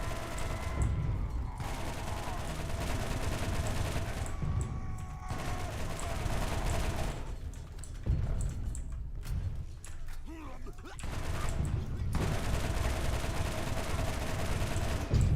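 Close, loud gunfire hits an enemy in a Borderlands game, sustained bursts of rapid shots broken by short pauses, with game effects around them.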